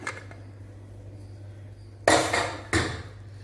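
A pressure cooker of mutton biryani is opened in a quiet kitchen, with two sharp metallic clanks of the lid close by after a stretch of near silence.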